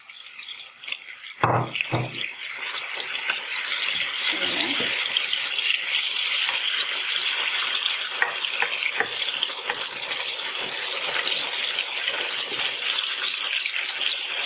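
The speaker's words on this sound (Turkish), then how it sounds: "Şimdi balığımızı ekleyelim." Fish going into sizzling fried onions in a clay pot, with a few sharp clunks and then a steady, loud frying hiss and crackle that continues throughout.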